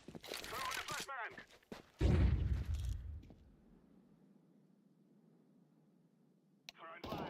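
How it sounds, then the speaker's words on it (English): A video game flashbang grenade goes off amid gunfire: sharp shot bursts, then a heavy blast followed by a long fading ringing tone, with a voice speaking over part of it. "Throwing a flashbang."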